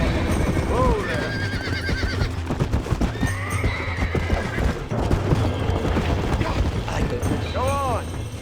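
Horses neigh and whinny in the video game Red Dead Redemption, with repeated clip-clopping hooves, wind and a busy outdoor bed throughout, several loud calls near the start and one clear neigh near the end.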